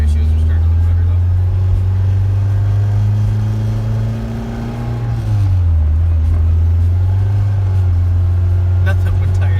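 A turbocharged Mazdaspeed Protege fitted with a Garrett GT25/40R drones loudly and steadily under light throttle with its tires spinning, the engine note dipping briefly midway before climbing again, close and continuous.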